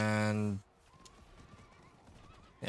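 A horse in the Diablo 4 video game gives a loud, close whinny, followed by a quieter stretch of rhythmic hoofbeats before another louder burst at the end.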